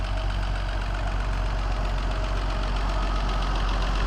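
A restored classic Mercedes engine, revived after more than five years without running, idles steadily with a loud, even rumble and a faint rhythmic knock, alone with no talk.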